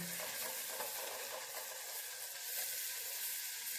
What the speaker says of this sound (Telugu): ఇది ఎర్రగా వేగనిద్దామండి మసాలా